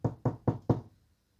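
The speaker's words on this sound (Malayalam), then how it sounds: "അതുകൊണ്ട് ഡോർ നോക്ക്" Four crisp knocks on a door in quick, even succession, close and fairly loud, followed by silence.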